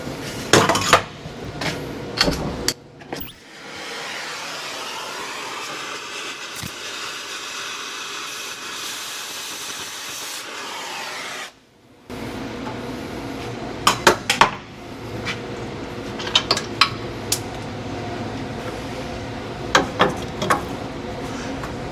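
The leaf spring center bolt on a Nissan Frontier is cut down with a power tool: metallic clanks and clinks, then a loud steady whine of about eight seconds, followed by more sharp clatter and knocks.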